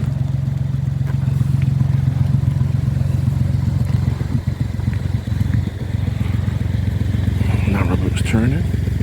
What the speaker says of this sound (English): Narrow boats turning.